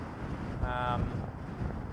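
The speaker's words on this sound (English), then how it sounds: "Currently set up where the winds are blowing extremely hard." Strong wind gusts buffet an outdoor microphone near the Christie Mountain wildfire, producing a steady low roar and rumble throughout, with a brief tonal whine in the middle.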